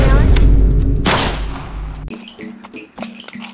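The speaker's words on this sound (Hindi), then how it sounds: "अरे चलो चलो यार, पटाखे चलाते हैं।" Loud Diwali firecrackers burst in heavy booming blasts during the first two seconds, with a second sharp crack near one second; afterward quieter pops and voices of people talking follow.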